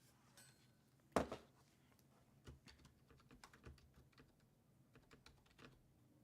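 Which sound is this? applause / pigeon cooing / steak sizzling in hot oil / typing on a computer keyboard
typing on a computer keyboard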